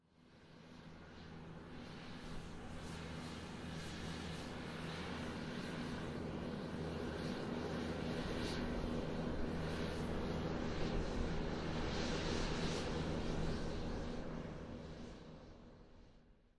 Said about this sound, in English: The flight is taking off.